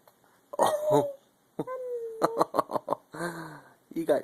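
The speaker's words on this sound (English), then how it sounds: "You got the hiccups." A small child hiccups loudly several times in quick bursts, with short vocal gasps between them and an adult talking nearby in a quiet room.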